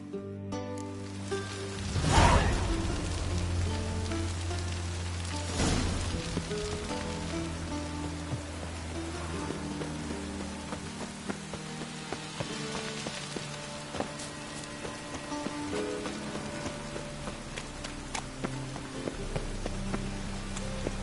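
Soft, steady rain pattering on a surface in a PS4 video game, faint and continuous, with quiet tonal background sounds underneath.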